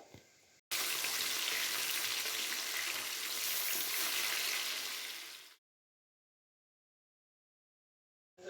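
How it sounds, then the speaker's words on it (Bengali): Loud, steady sizzling of rohu fish frying in hot oil over high flame, a dense crackling hiss for about five seconds that cuts off abruptly into silence. "পুরো হাই ফ্লেমে তেল গরম করে মাছগুলোকে ভালো করে ভেজে নেব"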